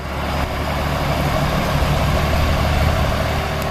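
A 1980s Allis-Chalmers 8070 tractor engine runs at a constant, deep, heavy rumble, loud and unchanging throughout, with no voices over it.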